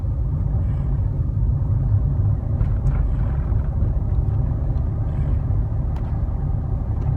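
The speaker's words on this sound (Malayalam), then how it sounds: "ഇപ്പോൾ വണ്ടിയുടെ സൗണ്ട് ശ്രദ്ധിക്കുക" Inside a car during a driving lesson, the engine gives a steady, loud low rumble after the shift into fourth gear, with road noise and no talking.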